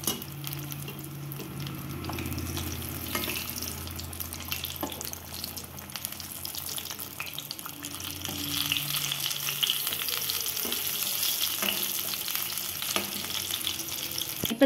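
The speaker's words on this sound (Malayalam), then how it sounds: "തിരിച്ചു മറിച്ചു വിട്ടിട്ട് ഫ്രൈ ചെയ്തെടുക്കാം" Egg bajji fry in hot oil, a steady crackling sizzle with bubbling that grows louder partway through, plus occasional clinks as pieces are turned.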